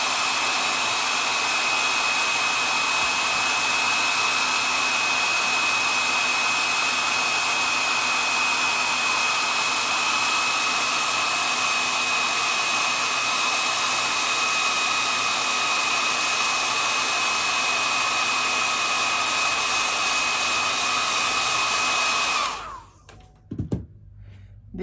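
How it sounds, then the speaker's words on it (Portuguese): A hair dryer drying paint on a rag doll's face blows loud and steady for over twenty seconds, then switches off, leaving a brief thump and quiet. "Aí, eu já vou vir com o meu secador e seco."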